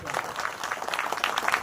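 Audience at a Gujarati bhajan satsang gathering applauds a devotional singer, a lively patter of many hands clapping in uneven bursts at moderate volume.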